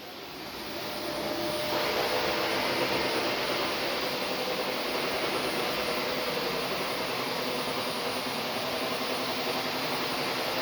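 A household vacuum cleaner starts up and runs with a loud, steady roaring whine, close by and unbroken for about ten seconds, with no talking.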